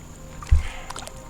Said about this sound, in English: just paddling up from where the dam was